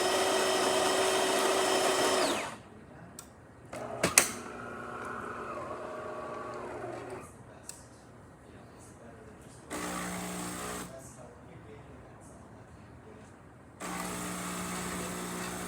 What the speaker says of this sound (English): nice steady stream coming out of the machine, really working perfectly fine